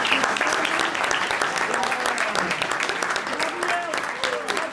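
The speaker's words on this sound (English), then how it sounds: "A round of applause for Walter Jr." A conference audience at a surgeons' meeting in New Orleans applauds loudly and steadily, a thick, continuous stream of clapping, with voices talking through it.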